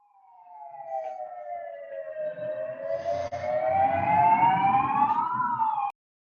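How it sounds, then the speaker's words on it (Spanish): An ambulance siren passes outside a door a few metres away, a loud single wailing tone sweeping slowly down and then back up over a low vehicle rumble before cutting off abruptly, with no talking. "pasó una ambulancia por la puerta acá a unos metros donde yo estoy hablando"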